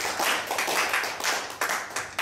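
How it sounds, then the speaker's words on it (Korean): Audience at a church prayer breakfast clapping in thanks for a pastor, a lively burst of hand claps with rhythmic surges, loud and close, no talking over it. "우리 강보은 목사님께 감사의 박수를 올리겠습니다"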